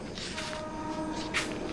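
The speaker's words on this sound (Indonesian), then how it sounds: "ada suara kereta dari tadi itu saya dengar seperti suara angklung di sini" A train passes steadily at night, a sustained rumble and rolling clatter of wagons with faint tonal ringing layered over it, holding an even level throughout.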